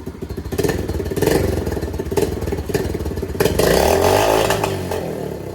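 A pit bike engine fires up and runs loud and close, its rough, rapid exhaust chatter revving a little and then settling into a steady, buzzy idle, with no talking over it.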